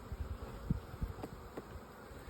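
Honey bees buzzing around an established hive while the frames are being inspected, a steady close drone with brief louder passes of individual bees.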